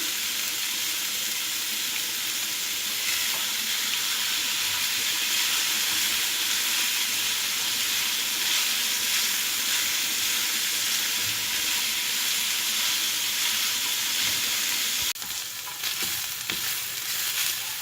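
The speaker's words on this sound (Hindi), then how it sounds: "गाजर को जो है मैंने तकरीबन 4 से 5 मिनट फ्राई कर लिया है मीडियम फ्लेम पे।" Carrots fry on a medium flame in a pan, a loud, steady, dense sizzle that runs on without pause, with a slight shift and faint clatter near the end.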